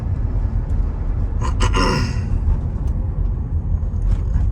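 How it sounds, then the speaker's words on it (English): Under a steady road rumble, a 2007 Mercedes SL550's brakes let out a brief hissing squeal that fades after about a second. "The brakes make some noise though."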